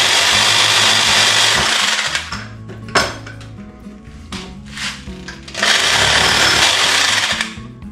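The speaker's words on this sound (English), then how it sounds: "So I'm thinking we'll grab the jigsaw, clamp this down, and we'll saw it that way." A jigsaw cuts through clamped PVC pipe in loud, buzzing bursts, stopping briefly and restarting for a second long run, close up with no speech.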